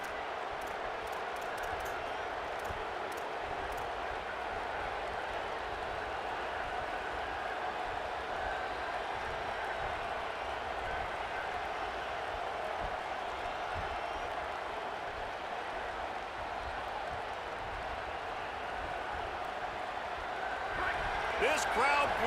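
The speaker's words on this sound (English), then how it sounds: "This crowd bringing the energy and noise early" A stadium crowd in the EA College Football 27 video game keeps up a steady, dense roar throughout, with a swell of cheering at the very end.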